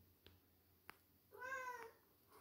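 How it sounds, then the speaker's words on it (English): A house cat gives one clear, drawn-out meow after two soft knocks. The call is quiet and close against a low, hushed background. "I'm just trying to keep my cat from meowing and running out."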